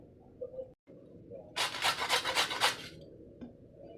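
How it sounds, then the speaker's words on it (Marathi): Fresh wet turmeric root being grated into thick shreds: a quick series of about eight raspy rubbing strokes close up, lasting a little over a second, between quiet stretches. "चला तर मग आपण आता हळदच किसून घेऊयात पहिले"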